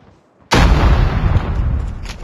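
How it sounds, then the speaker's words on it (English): A grenade blast in the mobile shooter game Call of Duty Mobile, a sudden loud boom after a brief quiet moment, followed by a sustained heavy rumble of explosion and gunfire. "Grenade out!"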